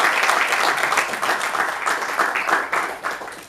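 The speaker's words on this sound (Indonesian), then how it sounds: "Tepuk tangan." Audience applause at a live monodrama theatre performance, a dense steady round of many hands clapping throughout with slight swells and dips, loud and close.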